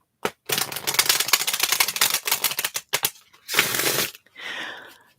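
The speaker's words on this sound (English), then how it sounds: "the first reading is always the hardest to shuffle, because I have the full stack of cards in my hand" A full deck of tarot cards being shuffled up close, with crisp papery riffling bursts, a long run at first and then a shorter one, between short pauses.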